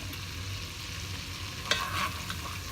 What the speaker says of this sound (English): allow this to saute and my butter to completely melt